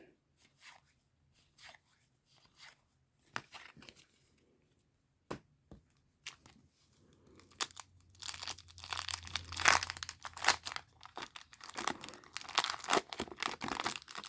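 Foil wrappers of 1990 Leaf Series 2 baseball card packs crinkle and tear open, starting as scattered brief rustles and building into dense, close crackling and crumpling with a low hum beneath.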